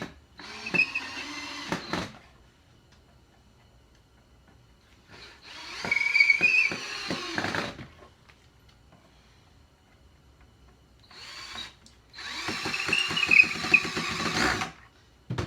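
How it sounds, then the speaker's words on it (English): A power drill drives screws into a wooden bar stool board in three separate bursts of a few seconds each. Each burst is a close, whining motor rising and straining, with short quiet pauses between them. "I'll drive it in all the way because the board will move on you."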